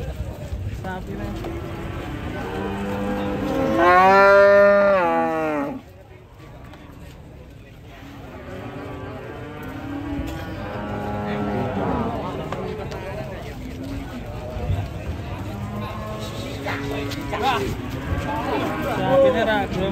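A rampaging cow swimming in water moos with a long, loud, strained low call, while a crowd of people talks steadily around it.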